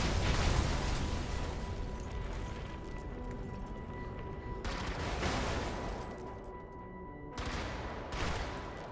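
Mortar fire in the mech combat game Brigador, heavy booming blasts that roll into dense, sustained explosion noise with a few sharp bursts.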